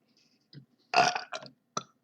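A person burps, one loud rough belch followed by a couple of shorter gulping bursts, close and alone in a quiet room.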